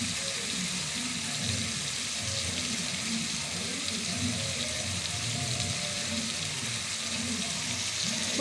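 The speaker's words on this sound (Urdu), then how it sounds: "اس میں تھوڑا سا پانی ڈالیں گے" Water is poured into palak chana cooking in a pan, giving a steady hiss of liquid and sizzling that runs without pause at moderate level, with no talking.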